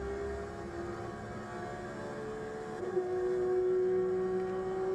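A Porsche being driven fast around the Yongin Speedway track gives a steady, humming engine and road drone with a clear whining tone that swells slightly toward the end, heard from inside the car.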